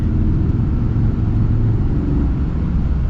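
Heavy-duty Ram pickup with a Cummins diesel under hard acceleration, heard from inside the cab as a steady, loud low-pitched engine drone and road rumble.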